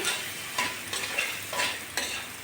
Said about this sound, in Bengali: উস্তের সঙ্গে ভালো করে পেঁয়াজগুলো আমি ভেজে নেব